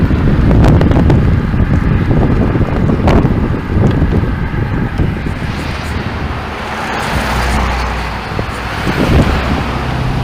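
Strong wind buffets a handheld camera during a road bike ride, a loud continuous roaring rush that swells and eases, with low rumble beneath and no talk.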